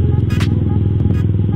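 A motorcycle fitted with an aftermarket racing exhaust rumbles close by in a steady low throbbing pulse, with brief clattery bursts over the engine note and no speech.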